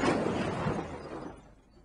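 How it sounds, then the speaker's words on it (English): A car slams into a parked car at 30 mph: a single loud crunching impact of metal and breaking glass that quickly decays into rattling debris and fades out. "This is the sound of a car crashing into a parked car at 30 miles an hour."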